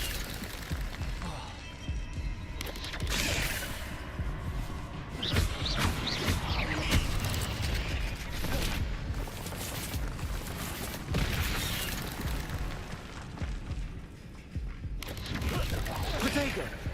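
Spell blasts, crackling bursts and impacts from magic combat in Hogwarts Legacy come in dense, rapid succession, loud and continuous with a busy, chaotic texture throughout.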